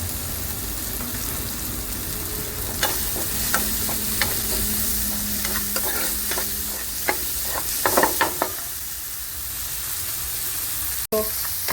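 Chopped tomatoes with salt fry in a pan for veg Manchurian gravy, a steady close sizzle broken by scraping stirs and clinks of the spoon, then one sharp knock near the end.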